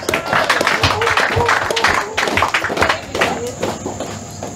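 Clapping from a crowd at an installation ceremony in Douala, a dense patter of many hands running steadily throughout with a voice or crowd noise mixed in.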